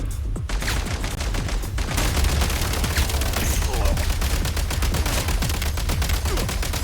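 Rapid gunfire in a video game, a dense, continuous stream of close shots like sustained automatic fire, loud and unbroken throughout with a brief lull near the start.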